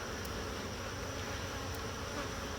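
Honeybees drone in a steady, dense buzz throughout a hive inspection, close and continuous with no pauses.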